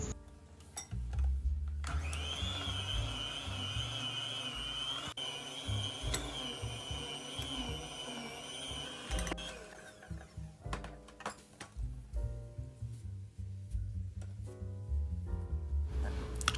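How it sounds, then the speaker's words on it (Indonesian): Stand mixer kneading bread dough steadily for several minutes, a loud continuous motor whine with a sustained high tone, rhythmic churning thumps underneath, then shifting to uneven clattering knocks toward the end. "Jadi saya akan lanjutkan mixer lagi sekitar 4 atau 5 menit."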